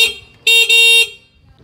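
The horn of an NWOW EMC Golf electric vehicle blares loudly up close in one short honk with a brief stutter partway through, then quiet returns.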